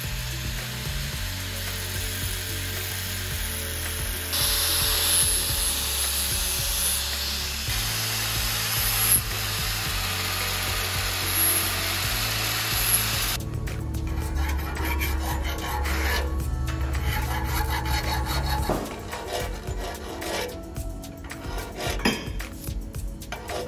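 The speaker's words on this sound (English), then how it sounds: "we can give it a sand and sandblast." Homemade steel racing seat brackets being sanded, a steady rasping abrasion running continuously with shifts in pitch and intensity, fairly loud and close, with no talk.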